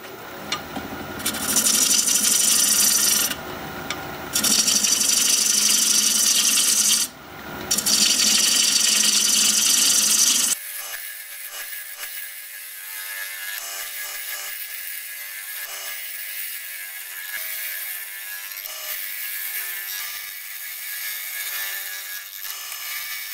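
A wooden pear being shaped on a lathe, its side profile and base cut down. Loud, steady cutting and rasping comes in bursts with brief gaps, then drops to a quieter continuous whir of the spinning lathe.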